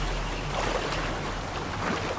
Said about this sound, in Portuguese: Ó a cachoeira aqui.